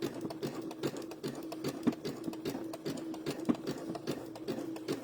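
A sewing machine stitches an appliqué onto a dish towel, its needle thumping in a steady, continuous rhythm, close and fairly loud with no voices over it.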